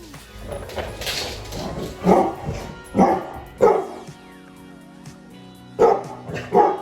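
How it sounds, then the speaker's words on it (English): A dog barks indoors at home, several loud close barks spaced over a few seconds, with softer yips and whimpering sounds between them. "Your bark is like the most ferocious."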